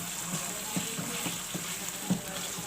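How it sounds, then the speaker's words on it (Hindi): Chicken malai curry being stirred after cream is added, a soft steady sizzle with intermittent scraping stir strokes in a pan, close and moderately quiet. "क्रीम शामिल करने के बाद अब हम इसको मिक्स करेंगे"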